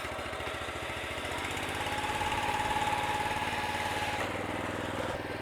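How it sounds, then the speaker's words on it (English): A lawn mower engine, on a reel mower, runs steadily and close, throttled back as it rolls down a sloped yard, with a continuous chugging drone that swells slightly midway. "I'm gonna throttle back a little bit and just let the mower kind of walk down the hill"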